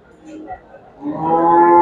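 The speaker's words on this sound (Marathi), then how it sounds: "दुसऱ्या वेताची गाय मित्रांनो बघू शकताय." A cow at a cattle market lets out a low, drawn-out moo that swells over the last second, close and clear with faint background noise.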